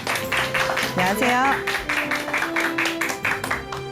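Studio audience applause in a Korean talk-show studio welcoming a guest lawyer, a steady wash of clapping running under a female announcer's spoken greeting.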